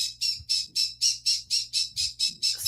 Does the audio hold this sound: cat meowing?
no